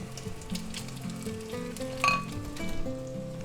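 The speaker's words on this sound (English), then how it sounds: "Break that up, stir fry that for a little bit." Pork loin pieces stir fried for lo mein in a hot pan, a steady sizzle and frying hiss with occasional clinks of a utensil against the pan, no talking.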